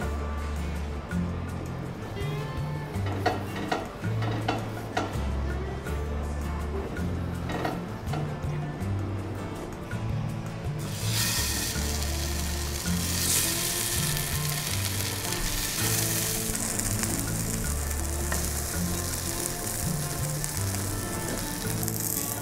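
Pupusas fry in a lightly oiled pan, giving a steady close sizzle that runs the whole time, with occasional soft clinks of cookware and a brighter hiss swelling toward the end.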